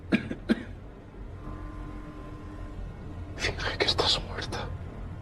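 A woman coughs in a scene from the 2015 horror film The Corpse of Anna Fritz: two short, sharp coughs come first, then a cluster of breathy, whispery coughs and gasps close by.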